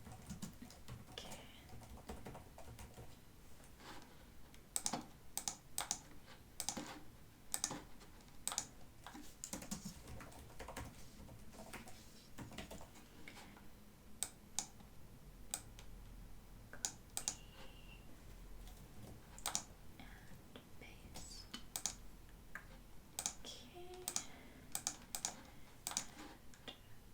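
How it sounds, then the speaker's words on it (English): Quick, light keystrokes clatter on a computer keyboard in a quiet office, coming in uneven bursts with brief pauses and scattered louder key taps, close and soft. "Can't think and type at the same time."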